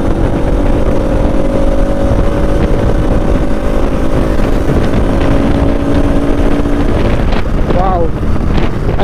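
A red Bajaj Pulsar RS200 motorcycle is ridden fast on a test ride, its engine drone buried under loud, constant wind roar buffeting the microphone, with a brief whine rising near the end.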